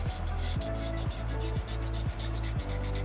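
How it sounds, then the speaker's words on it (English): Sandpaper pushed by a thumb rubs steadily over a small soapstone Moai carving, a close, continuous gritty scraping that pulses in a regular back-and-forth rhythm, with no talking. "I really like using my thumb to push that sandpaper around when I'm polishing a stone."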